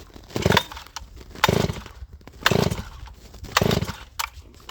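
A Neo-Tec 872i chainsaw revs outdoors in four loud, evenly spaced bursts, each dropping back to a rough idle before the next rise.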